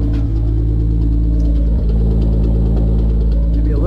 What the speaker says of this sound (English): Exhaust sounds nice and burbly like it should.